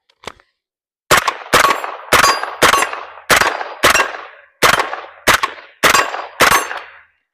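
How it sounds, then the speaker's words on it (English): Ten loud, sharp gunshots from a Palmetto State Armory JAKL rifle, fired one at a time at a steady pace of about two per second after a brief faint click, each crack ringing out with a short decay. "let's shoot some more."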